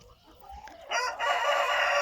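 A chicken in a backyard coop gives a loud, close crowing call that rises after a quieter, scratchy start, heard alone without voices.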